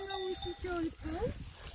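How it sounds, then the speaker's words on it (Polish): Sheep with small bells bleat in an outdoor pasture with a view, a few wavering bleats close by over a faint rustling background, with brief voices mixed in. "lecą owieczki z dzwoneczkami"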